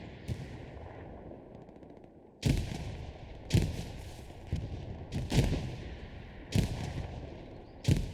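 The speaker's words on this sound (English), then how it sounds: "ridiculous amounts of nade spam" Grenades explode repeatedly on a Hell Let Loose battlefield, with sharp, loud blasts at irregular intervals, each followed by a short rumbling tail, over a quieter background of distant gunfire.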